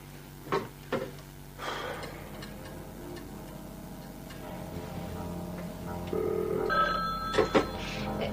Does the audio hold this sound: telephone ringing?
yes